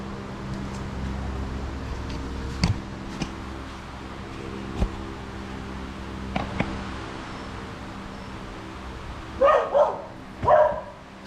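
A dog barks in the background near someone dismantling a 1969 Dodge Super Bee: a few short barks come late, after scattered faint clanks and knocks from the work, with steady low hum beneath.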